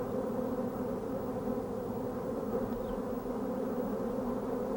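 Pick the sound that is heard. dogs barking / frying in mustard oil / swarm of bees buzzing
swarm of bees buzzing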